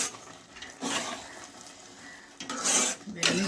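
Bread halwa being stirred in ghee in a pan, with a few bursts of scraping and clinking against the metal pan separated by quieter stretches.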